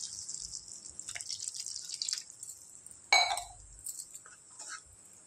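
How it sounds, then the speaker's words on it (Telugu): A glass of water is poured into tomato curry cooking on high heat: close trickling and dripping, then a sharp clink of the glass partway through, with no talk. "ఒక గ్లాస్ వాటర్ పోసుకుందాం."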